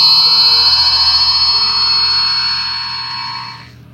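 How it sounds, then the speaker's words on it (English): Original Star Trek Enterprise bridge sound effect, a steady electronic tone with high, bright, bell-like overtones that holds for a few seconds and then fades, heard alone. "Star Trek fans know that sound. That's the bridge."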